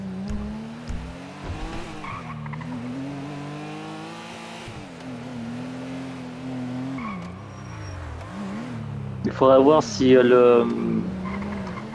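A car in the GTA V video game drives with a wavering engine note and then skids with sharp tire squeals near the end, while people talk over it.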